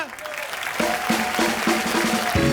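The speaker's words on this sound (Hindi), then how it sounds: "जोरदार तालियां" A studio audience on a comedy talk show breaks into loud, dense applause, a sustained wash of clapping with music chords punching through underneath.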